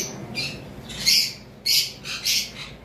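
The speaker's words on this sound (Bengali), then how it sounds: "এইখানে রয়েছে নর্মাল মুভ লাভবার্ডের পেয়ার" A pair of normal-mutation lovebirds gives a series of sharp, loud, close squawks in short bursts with brief pauses between them.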